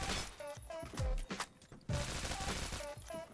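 Honey Badger rifle fire in the video game Phantom Forces, short rapid bursts with brief gaps between them, punchy and close over a faint game backdrop.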